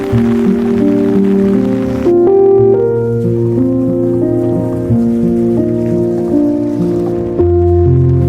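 Steady rain falls in the English countryside on a summer day, a constant loud patter on surfaces with soft drips and no voices.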